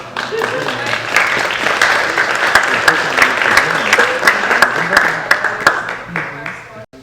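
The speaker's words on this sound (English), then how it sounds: "Can we give a round of applause to them?" An audience at an early college programming event breaks into applause, a dense burst of many hands clapping close by that holds steady for several seconds before tapering off at the end.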